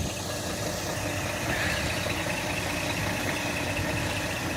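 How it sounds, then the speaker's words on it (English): A 2008 Scania K340EB Irizar Century coach with a Euro 4 Scania diesel engine idling, a steady low rumble with a faint knocking texture, heard up close without speech. "Euro 4 Scania engine, no AdBlue."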